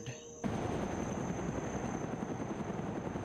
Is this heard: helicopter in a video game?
yes